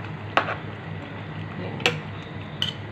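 A spoon scrapes and knocks against a cooking pot while pakbet, a Filipino vegetable stew, is stirred. Three sharp metallic clinks come at uneven intervals over a quiet kitchen background, with no talking.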